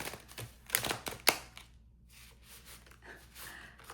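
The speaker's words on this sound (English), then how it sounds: "Sorry for this atrocious shuffling." Tarot cards shuffled clumsily by hand, giving a few sharp riffling snaps and clatters up close near the start, then softer papery rustling and faint handling sounds.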